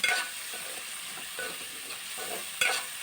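Three medium onions and five green chillies fry in a pan toward golden brown, giving a constant soft sizzle. Brief rustling bursts of stirring come every half second or so.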